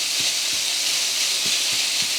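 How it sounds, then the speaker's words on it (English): Ground beef browning in a pan on an electric cooktop gives a steady, close sizzle and hiss with a few soft low thumps of stirring, and no one talks. "Now we just brown a pound of ground beef."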